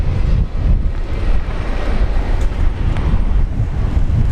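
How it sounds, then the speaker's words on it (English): The Qantas airliner on flight 604 from Melbourne rumbles loudly and steadily as it arrives at Brisbane Airport, a broad low engine roar held close throughout with no voices. "Qantas flight 604 just arrived from Melbourne."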